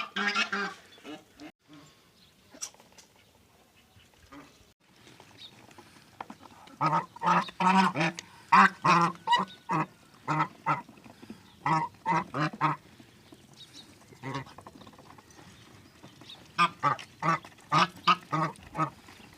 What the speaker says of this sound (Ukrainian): Інде качки випустила, все чудово.